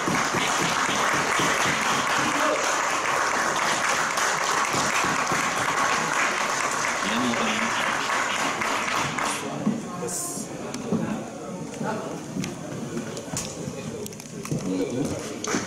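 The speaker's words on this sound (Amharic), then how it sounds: "አጨብጭቡለት ለአሌክስ።" An audience at a community event applauds for Alex, dense clapping from a crowd held loud for about nine seconds, then thinning to scattered claps with voices and stage noise.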